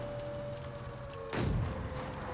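A World of Tanks Blitz tank cannon fires once, a sharp booming blast with a short rumbling tail over a steady engine hum, in a match with an M2 Light Tank.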